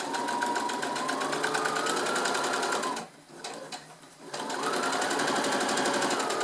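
A sewing machine stitches fabric for a tote bag with a fast, steady mechanical whir, pausing briefly midway before running on at the same close, even pace.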